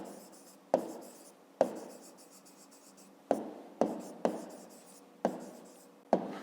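A pen writes by hand on paper while solving a fifth-grade math exercise, giving close, steady scratching strokes broken by about seven sharp taps as the pen lifts and lands.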